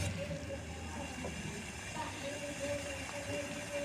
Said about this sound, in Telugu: వాటర్ ఇలా 1 మినిట్ వరకు మరగనివ్వండి